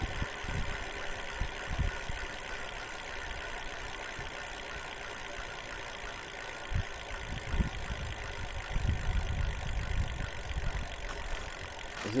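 The rear hub motor of a Duotts S26 e-bike runs with a steady, moderately loud electric hum and whine, broken by occasional low knocks and rattles.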